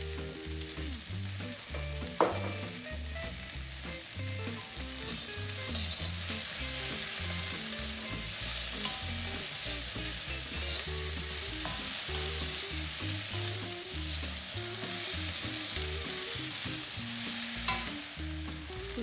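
Salted tomatoes fry in a pan for a South Indian chutney, with a continuous, even sizzle and a couple of sharp spatula knocks as they are stirred.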